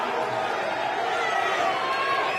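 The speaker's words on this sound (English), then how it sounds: "Everyone's just shouting out Usyk" A dense boxing arena crowd roars and chants a fighter's name, a steady wall of shouting voices with no break.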